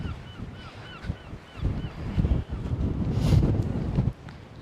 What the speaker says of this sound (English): the wind is pretty fierce